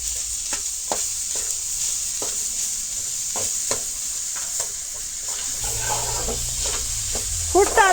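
Jaggery and milk powder mixture being stirred in a pan, with a steady frying sizzle and repeated scraping strokes of the spoon, some light clatter near the end.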